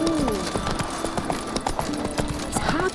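Horse hooves clip-clopping at a steady trot in The Witcher 3 video game, close and clear, with a voice speaking briefly over the rhythmic beats.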